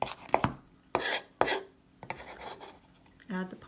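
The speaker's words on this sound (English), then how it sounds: "Next, I'm going to mince and add the parsley." A knife chops fresh parsley on a cutting board: a few sharp close taps and short bursts of chopping spaced irregularly, with quiet gaps between.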